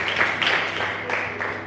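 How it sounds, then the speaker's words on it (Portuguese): Congregation applauding during a church service, a steady wash of clapping that fills the whole moment at moderate loudness with no clear talk over it. "Aplauda o Senhor."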